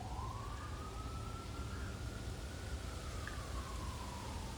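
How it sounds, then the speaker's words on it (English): An emergency vehicle siren wails in Hillcrest, Little Rock, a single faint, distant tone slowly rising and falling over steady background noise. "Lots of sounds in Hillcrest today, sirens and whatnot."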